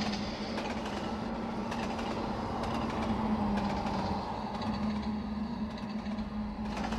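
A TGV Duplex train in the Trainz simulator runs steadily along the track with a continuous rumbling roll, faint clicks and creaks, and no talk.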